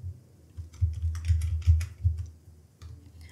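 Computer keyboard typing while entering a product query into an AI spreadsheet tool, a steady run of close, soft key clicks with a few louder bursts, no voices.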